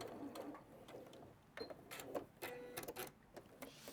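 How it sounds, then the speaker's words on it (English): A sewing machine stitches a quilt out to the corner in a few short, quiet bursts of whirring and clicking, with soft background noise between them. "Lift your foot, and then you're going to sew out to the corner."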